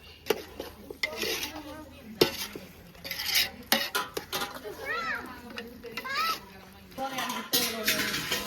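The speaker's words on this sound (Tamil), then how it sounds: "எல்லாம் போட்டுட்டு ஒரு கிண்டியாச்சு." Food stirred in a cooking pot after sambar powder goes in, with clinks and scrapes of a utensil against the metal. Children and adults chatter and play loudly over the stirring throughout.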